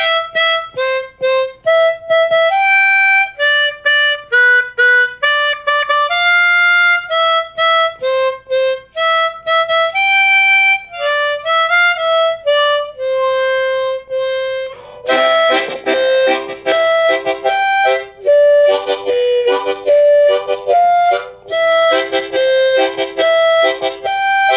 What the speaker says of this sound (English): you can play that same song using the pucker method without the chords